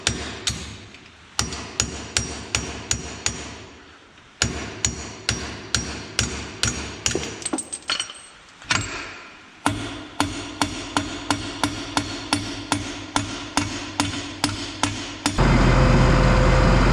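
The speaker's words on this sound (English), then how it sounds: "I got this and I've been trying to hammer it out from underneath" Metal hammer blows on a stuck pin in a farm manure spreader, a long series of sharp ringing strikes in steady rhythm with short pauses between runs, loud and close, ending in a burst of broad noise.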